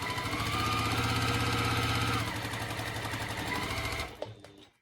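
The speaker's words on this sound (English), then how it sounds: "So we're going to go ahead and stitch these ones first." Sewing machine stitching quilt block pieces for a basket-pattern sampler quilt, running in a steady fast mechanical chatter for about four seconds before slowing and stopping, heard close with no talking.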